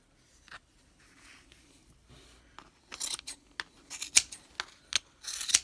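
Scissors trim a yarn pom pom made on a Bucilla pom pom maker, starting with faint rustling, then a steady series of loud, close, crunchy snips through the thick yarn.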